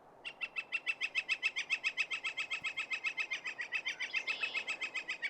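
A Northern Flicker in Windsor/Essex gives a long, fast series of identical ringing calls at a steady rhythm, fairly close and clear, rising slightly in strength and then easing, with no voices.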